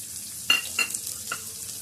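Mustard seeds, cumin, chana dal, cinnamon, bay leaf, ginger and chillies fry in hot oil, with a quiet sizzle broken by three short crackling pops close by.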